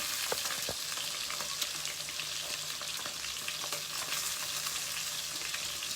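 Milkfish frying in hot oil gives a steady, dense sizzle with scattered pops and crackles, close and continuous throughout without any talk.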